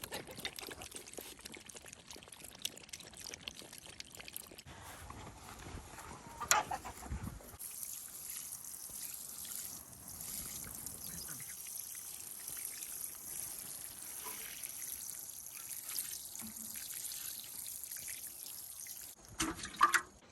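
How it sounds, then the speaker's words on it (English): A watering can pours over newly planted ginger in garden soil, a steady soft trickle and splash lasting many seconds with a few brief changes in flow. "we'll go grab the watering can and water it in really well"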